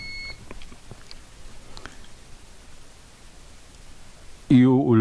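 A multimeter continuity test gives a loud steady tone that sounds suddenly near the end, after a stretch of faint handling noise and quiet talk.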